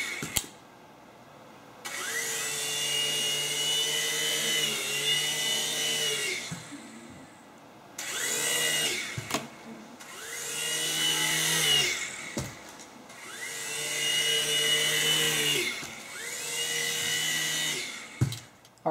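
Spacegate Sky Eagle remote control helicopter with gyroscope and three layers of blades, its motor spinning the propellers in a high close whine that rises and falls through several bursts with short pauses between them.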